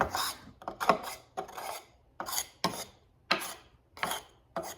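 Hands rub and gather flake tobacco, giving a series of dry, rasping rubs in short bursts at an irregular rhythm, close and fairly quiet.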